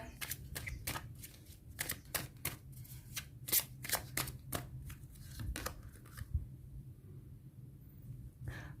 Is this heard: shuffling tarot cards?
yes